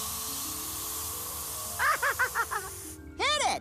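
A cartoon spray can lets out a steady, fairly loud hiss for under two seconds, then animated voices speak over faint background noise.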